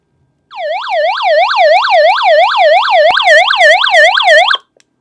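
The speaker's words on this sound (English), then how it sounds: "the emergency alarm will go on" A crank emergency radio blares its emergency alarm siren, a loud, close electronic wail sweeping up and down in fast regular cycles for about four seconds before cutting off abruptly.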